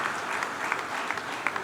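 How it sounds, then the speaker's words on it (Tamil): An audience at an eleventh anniversary celebration breaks into steady applause, a dense wash of clapping that holds evenly for a moment or two. "அவங்களுக்கு ஒரு கைத்தட்டுங்க"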